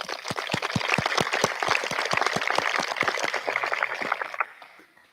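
Applause from the audience at a high school graduation ceremony, a fairly close burst of many hands clapping fast that holds for several seconds, then thins out and fades.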